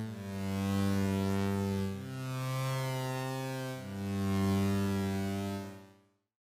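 A smooth synthesizer bass plays a slow sequence of sustained notes, three long tones stepping in pitch, then fading out cleanly.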